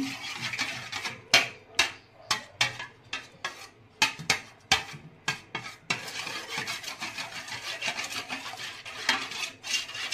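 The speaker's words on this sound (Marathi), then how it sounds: "तर आता ही अंडी चांगली फेटून घेते मी" Eggs whisked briskly in a bowl, a rapid run of rhythmic scraping strokes and taps against the sides, with a few short pauses between bursts.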